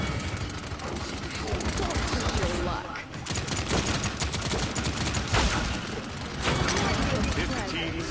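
Continuous gunfire in the hero shooter Paladins, rapid bursts and rattling shots piling up over the whole stretch, loud and close, with a player talking over the shooting.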